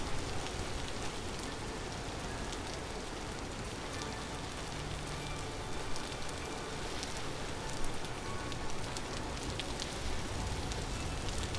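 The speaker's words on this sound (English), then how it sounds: "The rain's rough, too, because I can't, like, carry a torch around in the rain." Steady rain in a modded medieval video game, a dense, even hiss of drops falling on surfaces that fills the whole stretch at constant loudness, with no voices over it.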